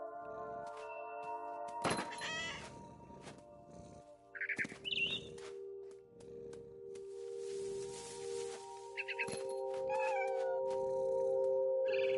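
A cat meows in the game What Remains of Edith Finch. Several short, close meows and cries are scattered over a steady tonal game-music background, with a few soft thumps.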